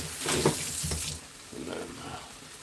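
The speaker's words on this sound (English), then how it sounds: "rinse the bowl" Tap water runs into a bowl being rinsed at a kitchen sink, a close splashing rush that swells, eases off, then returns more softly.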